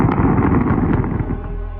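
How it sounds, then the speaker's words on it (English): A rapid flurry of distant explosions like air-defense interceptions, a rumbling series of muffled pops and bursts rolling together, fading slightly toward the end. "followed by a flurry of explosions from a distance."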